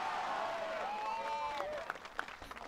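Chinese supporters in the stands cheer and shout at a recurve archery semifinal in Shanghai, a crowd roar with rising voices that fades into scattered claps and calls toward the end, heard from within the section.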